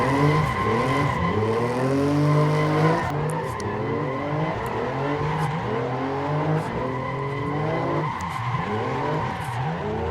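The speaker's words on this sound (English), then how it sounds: "Okay, brake test." BMW M2 two-door sports car with an inline six under hard braking, tires skidding and squealing loudly over the engine for the whole stretch, the engine note dropping and shifting as the car slows.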